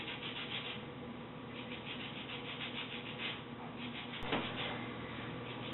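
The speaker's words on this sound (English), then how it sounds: "then I'm going to zest about half of this lemon into it" A lemon being zested for a goat cheese and summer vegetable galette, a soft continuous scraping and rubbing held at a steady low level for several seconds, with one brief sharper scratch near the end and no talk.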